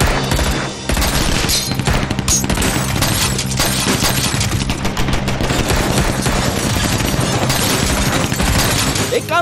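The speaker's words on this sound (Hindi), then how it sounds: "गोली चलाओ।" Intense gunfire in a tunnel battle in a dubbed Turkish action drama: loud, dense automatic bursts and shots roar continuously for about nine seconds, close and reverberant.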